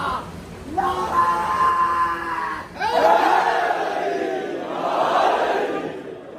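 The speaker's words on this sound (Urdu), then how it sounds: "دونوں ہاتھ بلند کر کے طاقت سے نعرے کا جواب دے گا" A large crowd at a 9th Muharram religious gathering roars a slogan back in unison, two or three loud collective shouts that swell and fade, filling the hall in response to a leading call.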